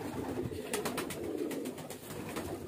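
A green highflyer pigeon with a single white feather coos softly while held in someone's hands, the low murmuring calls rolling on steadily through the whole short stretch with no talking.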